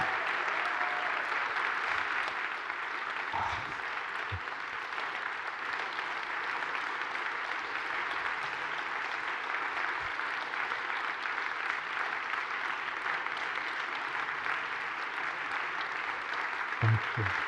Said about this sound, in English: One more round of applause, Philip Shepherd